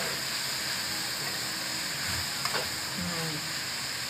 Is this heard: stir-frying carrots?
yes